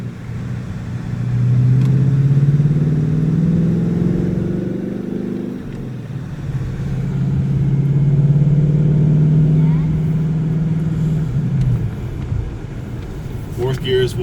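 A 2018 Ford Mustang GT engine drones low and steady from inside the cabin while driving, with two swells as revs rise and ease, a voice talking over it.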